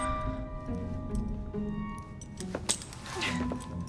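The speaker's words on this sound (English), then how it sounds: "Now hand over your keys." A set of keys jangles as it is handed over in the Assassin's Creed Syndicate video game, a brief metallic jingle rising over a steady ambient game hum with no speech.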